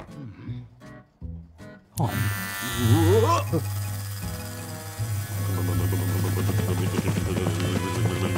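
Electric hair clippers switch on with a loud, steady buzzing hum during a film haircut scene in Paddington 2, running continuously close up while voices talk over it.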